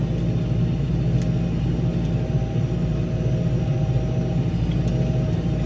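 A TR6.130 tractor engine labouring under load while deep-ploughing a wet, muddy field, heard as a continuous low rumbling drone at steady, close volume with no talk.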